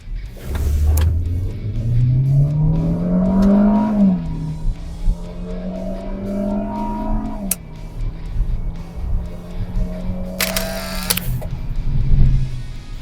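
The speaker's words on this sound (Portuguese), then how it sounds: "Vou parar aqui na rua e aí a gente vai fazer 0 a 100." A Kia Rio accelerating hard from a stop to 100 km/h on a street, its engine note climbing through gear changes and then holding a steady drone, close and fairly loud, with no talking.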